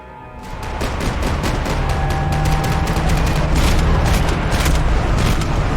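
Gunfire in the Max Payne 3 video game over Hoboken, rapid repeated bursts of shots over a dense rumbling background that builds up from the start and stays loud throughout, with no voices.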